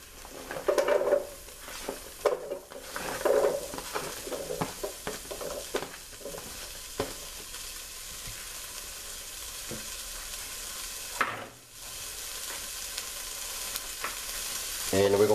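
Onions sautéing in a pan, a steady close sizzle with scattered scraping stirs, busiest at the start and near the end, no one speaking.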